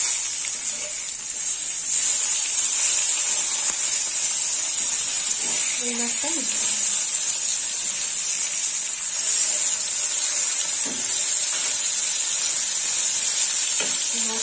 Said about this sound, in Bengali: বাকি দু পিস মাছ আছে, এই দু পিস মাছও ভেজে নেব।